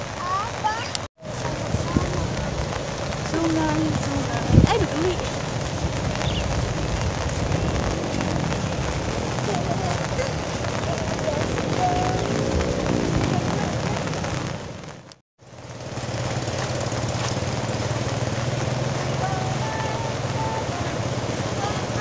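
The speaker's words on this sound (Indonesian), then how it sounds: "dan sekarang hujan lagi." Steady rain patters and hisses throughout at a campground in Cibodas, a constant wash of drops on surfaces with faint background noise.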